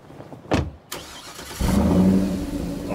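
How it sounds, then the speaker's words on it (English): A truck engine cranks and catches in State of Decay 2, preceded by a couple of sharp clunks, then settles into a loud, steady rumbling idle. "It's a truck."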